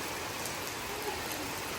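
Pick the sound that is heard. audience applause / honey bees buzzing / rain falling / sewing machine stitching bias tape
rain falling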